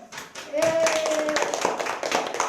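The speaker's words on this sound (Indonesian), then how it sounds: "Tepuk tangan buat Kevin" Classroom students clapping for a classmate, a dense patter of small hands running about two seconds with a sustained tone and a voice speaking over it.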